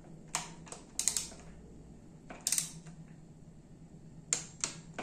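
A torque wrench clicks while tightening the fork bolts on a Honda XR 250 Tornado during a suspension service. Sharp, light clicks come in small clusters with pauses between them against a quiet workshop background, and no one speaks.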